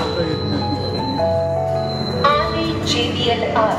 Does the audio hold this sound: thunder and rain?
no